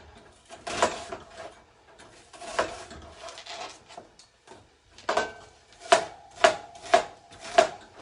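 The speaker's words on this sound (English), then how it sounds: "I'm gonna finish cutting up the rest of my onion." Onion cut with a knife on a board while clam chowder cooks, irregular soft slicing strokes giving way to a run of sharper rhythmic chops, close up with no speech.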